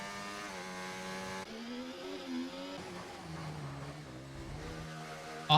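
A race car in a racing game drives the Singapore Street Circuit, its high engine note holding steady, then dropping and climbing again through gear changes and corners, sustained and fairly close with no talk.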